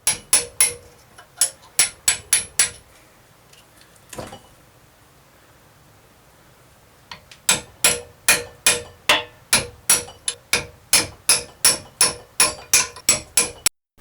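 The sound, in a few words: hammering out upper bushings of a Trabant 601 front axle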